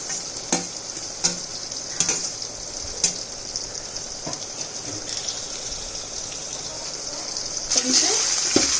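Tomatoes hit hot oil with mint and coriander for chicken biryani, giving a steady close sizzle with occasional stirring clacks and a brief louder spatter near the end.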